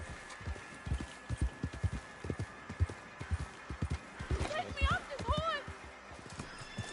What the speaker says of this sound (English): Porra, o cavalo deu um pinote.